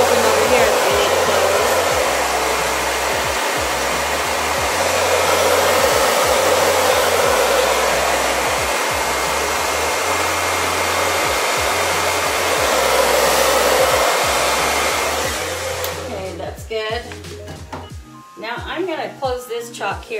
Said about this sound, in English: Yep, I'm gonna blow dry.